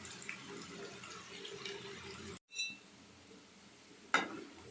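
Corn snacks fry in hot oil with a faint, steady bubbling hiss that cuts out briefly, followed by a single sharp clatter near the end.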